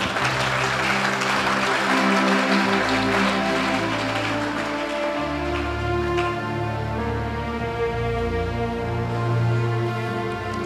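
A church congregation at a healing service claps loudly and continuously, a dense sustained roar of applause mixed with crowd voices.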